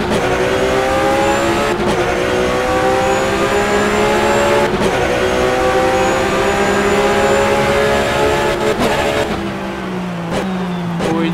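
A Porsche Supercup race car's flat-six engine screams at high revs at the Imola circuit, loud and sustained with sharp gear-shift breaks every few seconds before easing off near the end.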